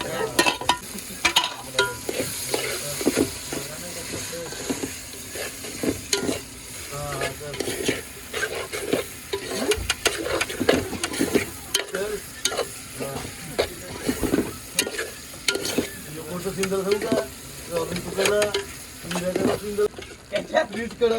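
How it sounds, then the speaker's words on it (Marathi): Tomatoes for gravy fry and sizzle in a pan on a fishing boat in India, with a steady sizzle and frequent scraping stirs throughout, while a voice talks intermittently over the cooking. "त्याच्यामध्ये आपण आता ग्रेव्हीसाठी टॅमॅटो टाकलेले आहेत"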